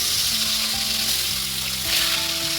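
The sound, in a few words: fish frying in oil with radhuni seeds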